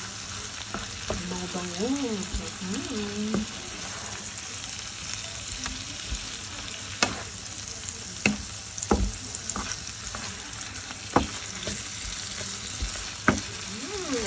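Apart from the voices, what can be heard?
garlic browning in butter in a pan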